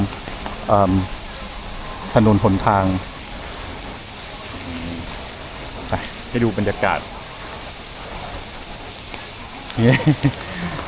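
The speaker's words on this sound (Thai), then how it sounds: "โอ้ฝนตกหนักอยู่นะ" Heavy rain pours steadily onto a street in Siam Square, Bangkok, on an afternoon, a constant dense hiss throughout, while someone talks intermittently over it.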